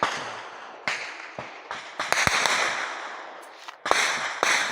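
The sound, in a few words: gunshots in a gunfight in Moreh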